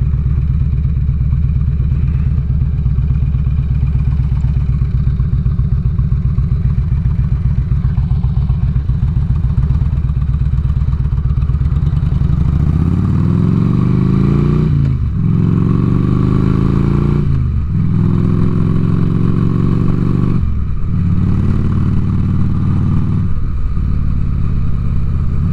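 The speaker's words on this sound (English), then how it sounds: "Now, the thing is, with this being an air cooled engine, I'm used to liquid cooled engines." An air-cooled 2006 Harley-Davidson Ultra Classic motorcycle engine drones steadily and loudly while riding, then the revs rise and fall through several gear changes, with wind noise throughout.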